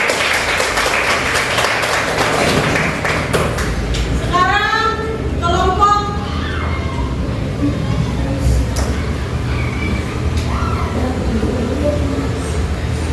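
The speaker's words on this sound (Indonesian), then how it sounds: "Tepuk tangan untuk kelompok satu." Scattered clapping from a class of students in a classroom, mixed with chatter and a few raised voices, fading into murmuring.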